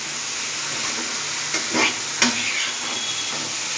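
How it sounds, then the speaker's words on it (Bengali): Potato and soybean pieces fry in a wok, a steady loud hiss and sizzle with a couple of brief stirring scrapes partway through. No one speaks. "এই যে আলুটা আর সোয়াবিনটা এর সঙ্গে দিয়ে দিলাম"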